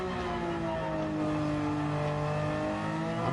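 Aston Martin DB9 race car engine in Gran Turismo 7 on the Nürburgring GP circuit, a loud, continuous engine roar with shifting pitch as it accelerates, and no talk.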